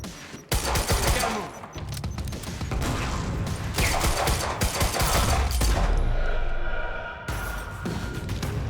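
Sustained, dense gunfire in the shooter game Quantum Break, loud rapid bursts blending into a continuous roar with a few sharper cracks, running nearly the whole stretch.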